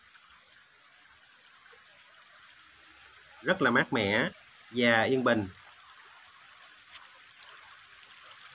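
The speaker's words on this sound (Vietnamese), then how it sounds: "Những dòng suối chảy nhẹ nhàng róc rách" A gently babbling stream at the Suối Mơ eco-tourism area in Đồng Nai, Vietnam, makes a steady soft rush throughout, with a person speaking briefly over it partway through.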